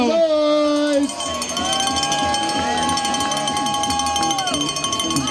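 At an outdoor ski jumping competition, a crowd of spectators cheers and rings cowbells. The ringing and shouting are sustained and fairly loud, and a voice over a loudspeaker talks over them at the start.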